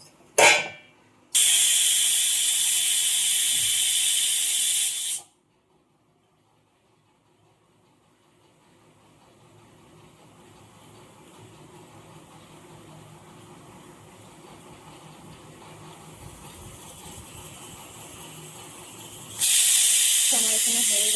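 A pressure cooker holding tarka made from five mixed lentils lets out two loud, sustained steam whistles separated by a long stretch of low, quiet rumbling.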